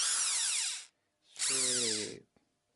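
Two short bursts from a Parkside cordless drill driver: a high whine spins up, holds for under a second, stops, then runs again with a lower motor tone. Close, loud and alone.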